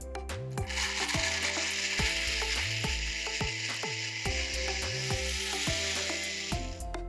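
An electric mixer grinder whirs in repeated pulsing bursts, blending onion, tomato and mixed masala into a paste for crab masala gravy, loud and close with a steady mechanical drone.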